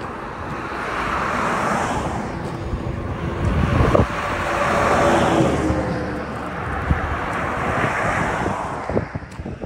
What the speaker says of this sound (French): Le vent se lève, il fait fret en tabarouette.